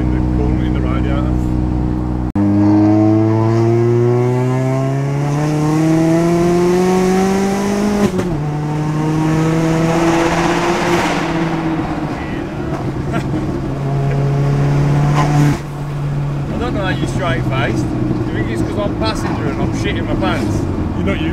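A 470 bhp Vauxhall Astra VXR engine pulls hard, its loud, rising tone climbing through the gears with a sharp break at each shift, heard from inside the car, with voices talking over it.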